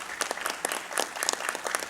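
Audience applause at a formal ceremony honouring a cardiac surgery anniversary, a steady patter of many hands clapping for about two seconds with no talk over it.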